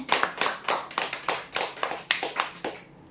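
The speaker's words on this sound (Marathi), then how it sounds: "जोरदार टाळ्या होऊ द्या." Applause breaks out for a prize draw winner, a small group clapping in a quick, even rhythm of about a dozen claps before stopping abruptly, close and fairly loud.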